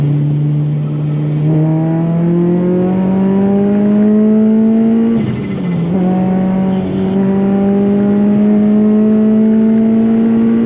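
A supercharged 8th-generation Honda Civic Si with a Kraftwerks supercharger accelerates from inside the car. The engine note climbs steadily in pitch, dips briefly at a gear change midway, then climbs again, loud and continuous with no talk.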